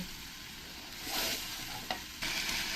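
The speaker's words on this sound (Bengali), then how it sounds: "আর এখানে যে পেস্ট করে রেখেছি আদা রসুন কাঁচা লঙ্কা এখান থেকেও দু চামচ দিয়ে দেবো দিয়ে ভালো করে একসঙ্গে আমি কষিয়ে নেব" Ginger, garlic and green chili paste stir-fries for a prawn malai curry, a quiet pan hiss that swells into louder sizzling bursts as the paste is stirred and scraped, with no talking.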